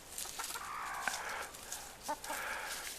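A bantam rooster crows outdoors among a backyard flock, its crow coming in two loud, drawn-out bursts over a steady background of hens and ambient noise.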